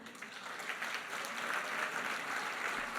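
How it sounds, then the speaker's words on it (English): An audience at an honours ceremony breaks into sustained applause, a dense, even wash of clapping from a crowd holding steady for several seconds. "give a loud clap for that."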